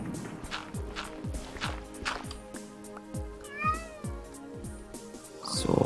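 Cats meow repeatedly in Minecraft with the Aether II mod, a steady run of short descending mews mixed with footsteps and other game sounds, fairly close.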